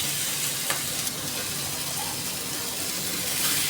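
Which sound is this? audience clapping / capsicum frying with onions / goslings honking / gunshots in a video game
capsicum frying with onions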